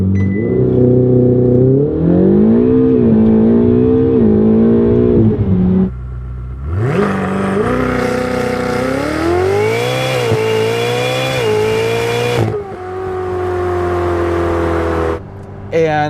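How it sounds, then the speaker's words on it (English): A Ferrari F8 launching hard with launch control, its engine close and loud, climbing sharply through several gear changes, with brief pauses between pulls and a final high-revving surge. "That launch control is outrageous."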